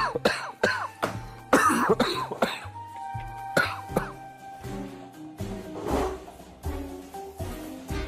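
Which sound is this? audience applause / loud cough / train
loud cough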